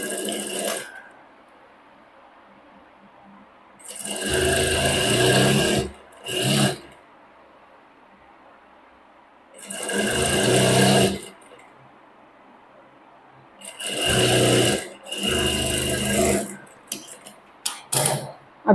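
A domestic sewing machine stitches a blouse belt in several loud bursts of rapid mechanical whirring, each a few seconds long and separated by quiet pauses, ending with faint handling clatter.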